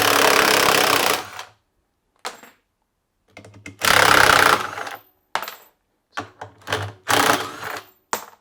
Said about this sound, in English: if you've got a 13 mil socket, you can undo it